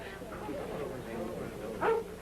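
Dogs at a dog show yipping, whimpering and giving a short bark under a man's speech, with a sharper bark near the end.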